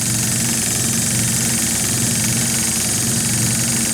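A Stuart D10 live steam engine runs at speed, a dense, steady, loud mechanical chugging drone with a fast, even pulse filling the whole stretch, heard close with no talking.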